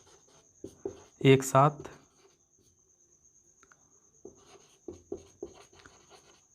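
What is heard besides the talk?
writing on paper during a math lesson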